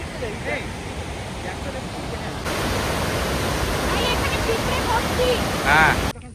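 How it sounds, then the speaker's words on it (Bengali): Rushing water pours through Jackson Lake Dam near Grand Teton as a loud, constant broadband roar that swells partway through. A voice is faintly audible beneath it. "দেখুন জলের কি স্রোত"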